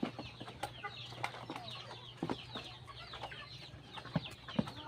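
Pet chickens in a backyard, relaxed after feeding, clucking softly with repeated short, scattered calls over a low steady background hum, fairly faint and close.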